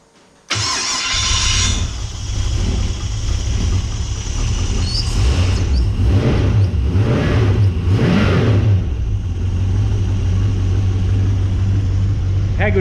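A Ford XG ute engine cranks and catches, then runs steadily at a loud, close idle with a few rising revs in the middle before settling back to an even, rumbling idle.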